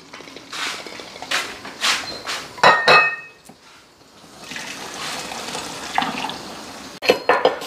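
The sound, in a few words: running cold tap water cooling boiled eggs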